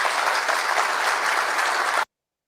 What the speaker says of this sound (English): Listen to the applauses.